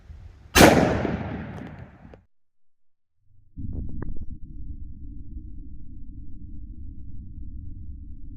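A single sharp, loud gunshot from a 10mm pistol with a 3.8-inch barrel firing Liberty Civil Defense 60-grain ammunition, its report decaying over about a second, followed by a pause and then a low steady rumble of background noise.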